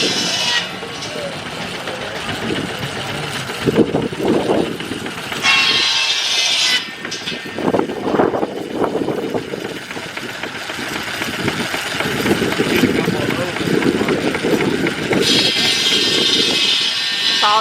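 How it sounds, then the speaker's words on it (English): Two tractors belt-driving a wood saw at an outdoor tractor show, a steady loud mechanical roar with bursts of higher whining as the blade bites the log, people talking nearby. "They actually have two tractors here running belt."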